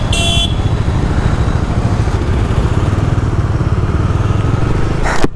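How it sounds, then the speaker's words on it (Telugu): A crowd of motorcycles, super bikes included, gathers at a breakfast ride meetup in Hyderabad, with a steady, close engine drone and a short horn toot at the start. "సో ఎన్నో బైక్స్ వస్తున్నాయి ఆడ"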